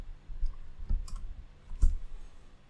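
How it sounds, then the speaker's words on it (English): A few faint, scattered keystroke clicks from a computer keyboard as a terminal command is typed, quiet and close with long gaps between taps. "Inside the terminal, I'll type npx hardhat compile."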